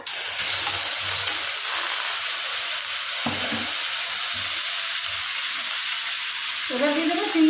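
Prawns sizzle in hot oil spiced with radhuni and dried red chilli, a continuous bright hiss with low pops and a short rising tone near the end.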